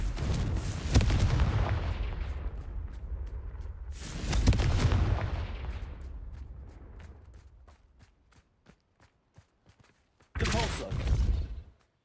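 A Confringo blasting spell in a wizarding video game, rendered on ultra settings, erupts in heavy booming explosions, two long rumbling blasts followed by sparse faint pops and a final close burst.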